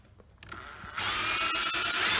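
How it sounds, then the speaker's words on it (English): Power drill boring straight holes into wood while building an epoxy cup turner, the motor whining up after a short lead-in and then running steadily and loud at close range for the rest. "now we're going to drill our holes straight up and down."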